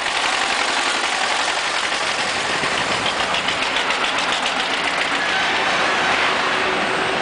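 A tractor engine runs on a road in Punjab, a loud, steady rumble that holds throughout with dense, rattling, noisy texture and no speech.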